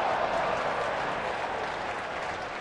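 Crowd applause in the club section of a Giants baseball stadium during a Phillies game, a steady, fairly distant wash of clapping that continues evenly throughout.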